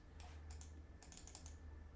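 Keys on a computer keyboard are tapped in short clustered bursts, a few isolated clicks and then a quick run, close and quiet over a low hum, with no talking.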